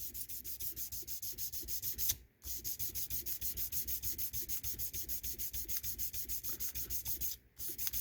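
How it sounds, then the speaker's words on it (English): Jumbo frets on a Jackson compound radius guitar neck being sanded in steady back-and-forth rubbing strokes, close and continuous, with two brief pauses. "as I'm sanding this direction, I'm kind of sanding the back heel of this fret and the front side at the top side of that fret"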